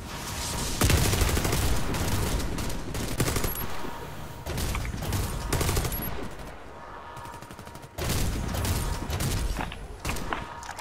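Loud, close automatic gunfire in a co-op shooter mission in Pripyat, played by four people on insane difficulty: dense bursts of rapid shots with short pauses between volleys and mechanical clacks in between.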